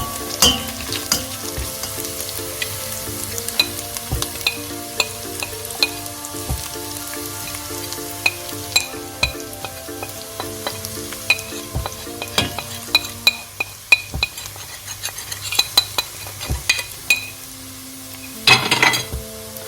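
Ginger garlic paste and spices sizzle and fry in a pan for a lamb curry, a steady crackling hiss broken by repeated stirring and scraping of a utensil against the pan, close and fairly loud with no talk.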